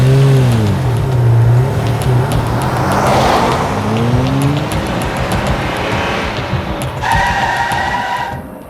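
A car engine labours with rising and falling pitch, then pulls away and fades, loud and close with no talk over it, in a tense scene of a Hindi crime drama.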